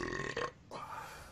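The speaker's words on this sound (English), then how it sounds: "We got the burps tonight" Deep closed-mouth burp, loud and close, a long rumbling belch broken by a brief catch and then continuing in a second drawn-out swell, with no talk.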